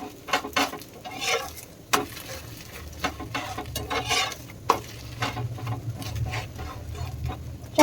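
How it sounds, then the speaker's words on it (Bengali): Rice being pressed down and fried in a pan, a close sizzle with repeated scraping and tapping strokes of a spatula in an uneven rhythm, no voices. "টিপে টিপে ভেজে নিতে হবে"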